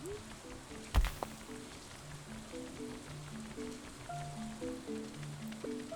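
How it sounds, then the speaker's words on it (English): Steady light rain in the Stardew Valley video game, a soft even patter under gentle chiming game music, with one brief thump near the start. "oh, it's raining"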